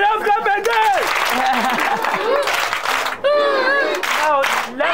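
A crowd in Nigeria claps for Kai Cenat, steady dense applause lasting throughout, mixed with loud excited voices and shouting over the top.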